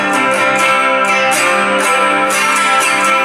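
Guitar chords strummed in a steady rhythm, bright and loud, ringing continuously with regular strokes.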